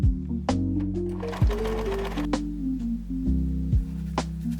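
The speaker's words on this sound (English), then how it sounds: "Fix it inside the tunnel with your sewing machine." A sewing machine stitches elastic inside the tunnel of a small fabric tote bag, running in several close bursts of rapid mechanical whirring with brief pauses and clicks between them.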